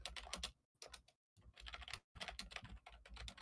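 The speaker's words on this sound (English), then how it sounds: "I hear God typing." Close, quiet typing on a computer keyboard: rapid bursts of crisp key clicks broken by two short pauses, heard alone without any talk.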